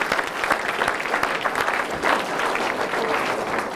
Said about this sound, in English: How about a round of applause for Libby Hickson?